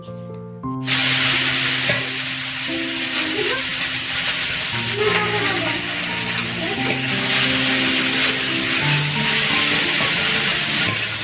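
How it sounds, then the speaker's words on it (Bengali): Potatoes frying in a pan in a village kitchen, stirred steadily through a continuous close sizzle with scraping and clinks of the spatula against the pan. "এই যে দেখো আমার আলু ভাজা হয়ে গিয়েছে"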